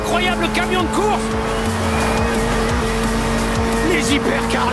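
Racing trucks and hypercars in Forza Horizon 4 roar and whine with tires squealing as they speed past, layered over crowd noise and a voice talking.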